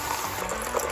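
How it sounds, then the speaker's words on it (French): Water is poured over walnuts to cover them for soaking, making a brief, continuous rushing splash heard close up with nothing else alongside. "On couvre ça d'eau."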